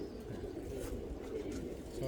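Domestic pigeons kept in a loft at dusk giving soft, low cooing throughout, faint and partly muffled, with murmuring voices in the background.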